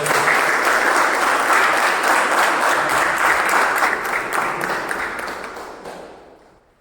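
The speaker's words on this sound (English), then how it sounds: "let's hear it for a huge round of applause for them" A club meeting audience applauds three speech evaluators with a full, continuous round of clapping that stays strong, then tapers off and dies away into silence near the end.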